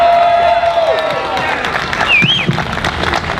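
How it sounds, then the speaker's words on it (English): A convention crowd at an E3 2013 voice-actor panel claps and cheers in a lively burst, with whoops and a host's voice over the noise. "Let's give them a warm round of applause."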